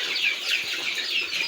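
Sasso breed chickens on a poultry farm in Kenya, a flock clucking and chattering in quick, overlapping calls at moderate distance with no talk.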